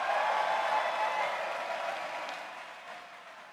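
A large conference audience claps and cheers at a Bitcoin event, a dense wash of applause that starts loud and gradually fades over a few seconds.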